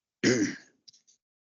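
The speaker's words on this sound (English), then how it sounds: "I am so sorry for the coughing" A single sharp throat-clearing cough, loud and close, followed by a couple of faint short catches of breath, then silence.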